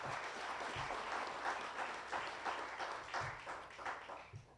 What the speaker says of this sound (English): Let's give the LOC a round of applause.